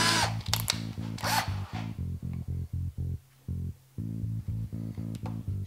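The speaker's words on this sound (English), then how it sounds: "Then I step up to the larger drill bit." Power drill boring a hole with a larger bit during a motorcycle ignition relocation dash install, in short repeated bursts of whining spin with brief pauses between, close and fairly loud, no talk.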